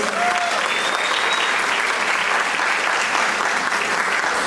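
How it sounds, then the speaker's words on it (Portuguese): Steady, dense clapping from a crowd at a Brazilian clown school event, close and continuous throughout, with a faint whistle-like tone near the start. "Muito obrigado, gente, salva de palmas."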